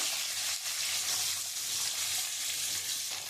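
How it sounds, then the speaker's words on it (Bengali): Pointed gourd and potatoes fry in hot oil with cumin and ginger, giving a loud, steady sizzle with a few soft stirring scrapes, close and uninterrupted. "আমি পটল আর আলুটা দিয়ে দিলাম লাল লাল করে।"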